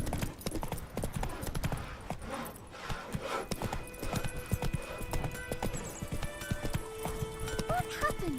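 Geralt's horse Roach in The Witcher 3, a quick rhythmic clip-clop of hooves on the move, close and steady, with game music and a voice speaking over it.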